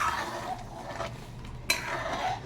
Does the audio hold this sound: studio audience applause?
no